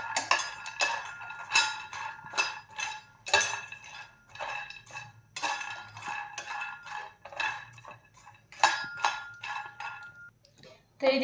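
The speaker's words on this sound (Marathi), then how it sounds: "तर इथे मखाने मी छान असे भाजून घेतलेले आहेत" Fox nuts (makhana) dry-roasting in a pan, with a spatula stirring them and giving off irregular, close metallic clinks and scrapes that come in busy bursts with short pauses.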